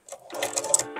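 A Chinese-made eight-direction (happo) sewing machine stitches during shoe repair practice, giving one short, close burst of rapid mechanical clattering.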